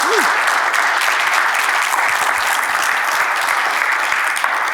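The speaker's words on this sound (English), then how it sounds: "Let's give her a great big applause" A fitness event audience applauds steadily, dense continuous clapping filling the space at an even level from start to finish.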